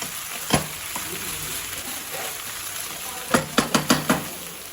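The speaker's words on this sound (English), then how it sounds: "So fry for 5 minutes" Mixed vegetables for curry fry steadily in a pan with a close, continuous sizzle, then a quick run of five metallic scrapes and knocks from a spoon against the pan near the end.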